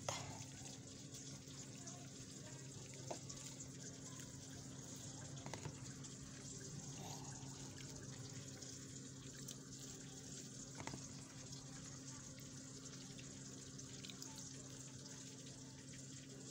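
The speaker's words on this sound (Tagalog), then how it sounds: "Tapos ugasan ko pa siya ng 3 beses para matanggal yung alat." Sardines being rinsed under a running kitchen tap, a steady soft splash of water into a sink with faint clinks, continuing throughout at low level.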